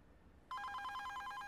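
A telephone bell starts ringing abruptly after a short quiet moment and keeps going as a loud, steady, close trill to the end, with no talk over it.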